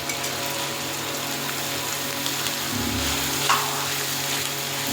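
Spices and cashew, ginger, garlic and chilli fry in hot oil in a pan while being stirred for a dahi katla fish curry; a steady close sizzle with soft scraping, no voices.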